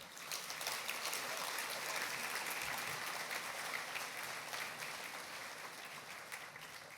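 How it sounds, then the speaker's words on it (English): Steady applause from a large audience fills the whole stretch, a dense even patter that fades slightly toward the end. "Give Pam another round of applause"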